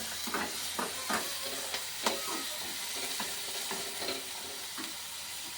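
Onions and rice frying in a pan, a continuous sizzle broken by repeated scraping stirs of a spoon, close and steady with no voices.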